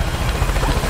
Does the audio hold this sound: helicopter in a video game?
yes